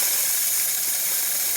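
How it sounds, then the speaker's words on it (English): Espresso machine steam wand, on a heat-exchanger machine after servicing, blasting steam in a strong, steady, loud hiss that runs unbroken from start to finish, with no voices over it. "Nice strong steam."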